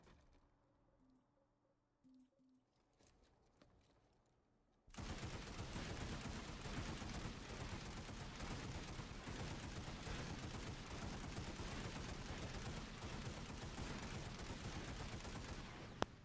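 Automatic weapon fire from the shooter game Planetside 2 starts after a few quiet seconds and roars on in one loud, continuous burst for about eleven seconds.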